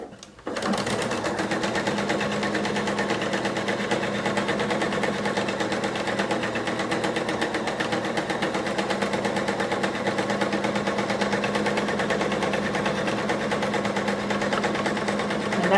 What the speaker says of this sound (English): we've sewn on our 2 stitching lines, and you can see that